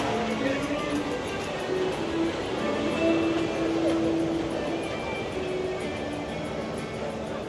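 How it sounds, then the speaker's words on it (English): An EPCOT monorail passing by at Walt Disney World, a broad steady rumble and whoosh of the train with faint whining tones, heard at moderate distance amid park crowd noise. "Always got to catch a monorail going by."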